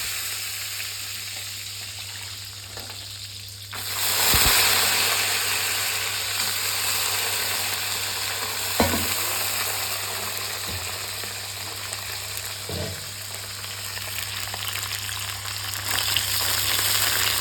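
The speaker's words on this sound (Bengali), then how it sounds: "বড়িগুলো সুন্দর তেলে একটু হালকা লাল লাল করে ভেজে নেব" Washed lentil dumplings (bori) fry in oil, a continuous loud sizzle that swells after a few seconds, punctuated by a few sharp knocks against a steady hum.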